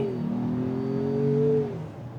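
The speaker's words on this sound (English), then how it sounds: "I've got it in sport mode, foot to the floor." A 2025 Ford Maverick Lobo accelerates hard in sport mode on a public road. The engine roars steadily and the pitch climbs smoothly as it pulls, loud and close, then falls off at the end.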